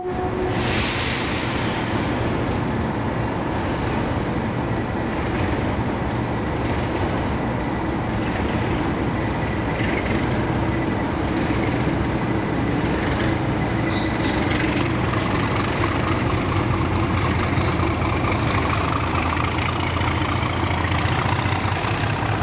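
Diesel locomotives 37521 and 37668 at Carnforth South Junction, working train 1Z73, give a steady, loud engine drone with a deep low throb. It runs unbroken with no voices.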